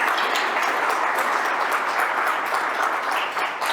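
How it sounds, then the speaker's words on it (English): A conference crowd at the opening of a world liberty gathering claps for the speakers, a dense, continuous roar of applause at steady loudness that dips slightly near the end. "Huge, huge applause to all the speakers from all over around the country."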